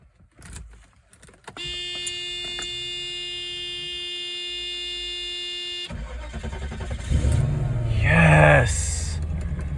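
A broken-down car's engine cranks with a steady electric whine, then catches and revs up loudly, rising and falling as it runs near the microphone.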